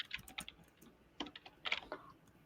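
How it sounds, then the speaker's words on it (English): Keys clatter on a computer keyboard in short irregular bursts of typing, fairly close and alone, with brief pauses between the flurries. "Esme, please stop typing"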